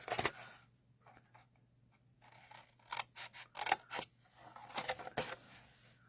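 Scissors cut through a banner in short bursts of crisp snipping and sliding blade sounds, close and fairly quiet, separated by brief pauses, with no talking.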